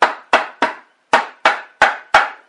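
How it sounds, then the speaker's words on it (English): A rubber mallet gently taps a part into place on a Briggs and Stratton Power Built 12.5 HP flathead engine during a rebuild: seven close, sharp knocks in an uneven rhythm, each decaying quickly. "You might want to take a rubber mallet here. Gently tap it on."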